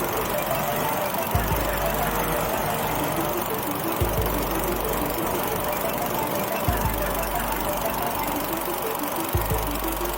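A hovercraft's thrust engine runs rough and struggles to build RPM, a close, steady mechanical drone with uneven, knocking surges every few seconds.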